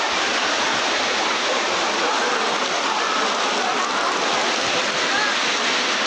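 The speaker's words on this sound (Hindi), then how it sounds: "अभी इस वक्त इतना बारिश आ रहा है," Heavy rain pours down steadily, a dense, loud hiss with no breaks throughout.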